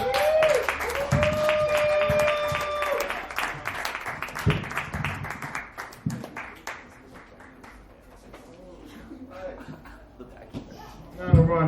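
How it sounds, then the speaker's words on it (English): Audience applause at a dive bar comedy show memorial, a burst of clapping that swells early then thins out, with voices talking and a few chuckles over it. "A round of applause for my guy"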